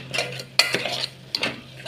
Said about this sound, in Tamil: போட்டுட்டு நல்லா கலரி விடணுங்க